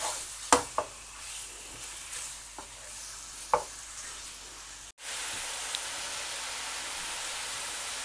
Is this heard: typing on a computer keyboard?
no